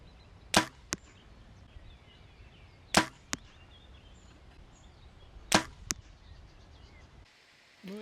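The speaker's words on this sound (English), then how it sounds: "I now shot 3 arrows on target at 25 meters." Three arrows are shot one by one from a bow fitted with a Garmin Xero sight at a target 25 meters away. Each sharp release snap is followed moments later by a thud of impact, and the shots are spaced a few seconds apart.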